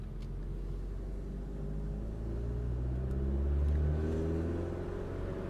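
A Hyundai Elantra N engine idles steadily just after starting, following installation of an upgraded high pressure fuel pump; a continuous low, even rumble with a slight swell midway, heard close and alone without speech.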